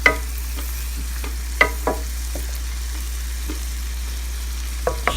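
Rice is stirred into caramelized sugar in a pan over low heat for sweet zarda, with a low constant hiss beneath sharp, scattered clinks and scrapes of a utensil against the pan, close and without talk.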